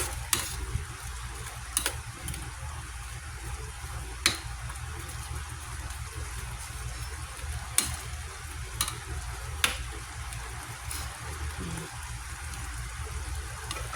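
Buttered shrimp and garlic fry in a pan with a low, steady sizzle and crackle, broken by a few sharp ticks and pops, with no talking.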